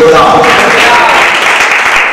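A church congregation breaks into loud, dense applause, a steady wash of many hands clapping together with no talk heard over it.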